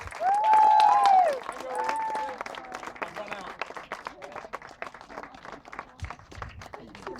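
A party crowd applauds and cheers a couple celebrating their silver wedding anniversary. Dense clapping continues throughout, with a whistled note at the start and voices mixed into the applause.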